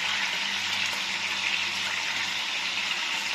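Fish frying in a pan, a steady, even hiss of oil sizzling close up with no pauses or voices.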